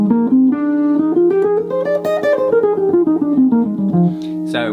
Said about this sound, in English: So F Dorian sounds like this